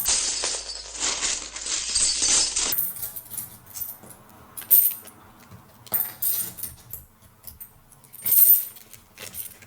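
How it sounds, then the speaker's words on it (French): Metal board game coins clinking and jingling close by as a box is unpacked, a shaking rush followed by scattered bright clinks and small clattering handfuls. "Ah, j'adore ce bruit de pièces."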